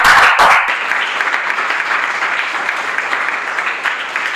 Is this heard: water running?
no